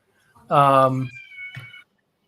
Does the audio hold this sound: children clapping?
no